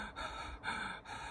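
Gasping mouth breaths drawn into the upper chest, imitating panic, three sharp intakes in quick succession, close and alone.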